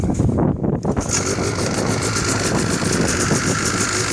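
A rebuilt, carb-tuned 1993 Yamaha Exciter snowmobile engine runs steadily close by, loud and buzzing with some wind noise, after a brief dip near the start.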